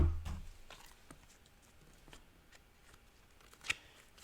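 Tarot cards shuffled and drawn by hand, soft riffling and light slides with a few quiet taps, close and faint in a quiet room.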